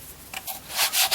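A handheld sandpaper tool rubs along the edge of a leather camera strap, short close scratchy strokes, a few quick back-and-forth passes with no talking.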